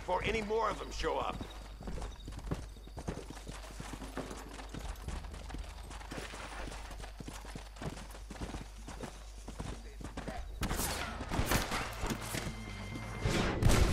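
Horse hooves clip-clopping in the Red Dead Redemption video game, a steady walking rhythm of muffled thuds running throughout under game music and someone talking.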